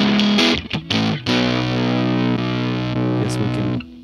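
Electric guitar runs through the JC-120 clean preamp model on a Boss GX-700 effects processor, giving a few quick picked notes and then a long sustained chord that rings out with a chorus-like shimmer before it cuts off.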